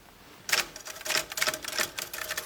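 A typewriter clacks out a police report in a rapid, uneven burst of sharp key strikes, close and crisp after a moment of quiet.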